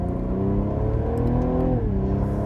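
A Cadillac ATS-V twin-turbo sedan of 465 horsepower accelerating hard from a stop, its loud, close engine note climbing steadily through second gear, then dropping briefly at a shift before pulling again.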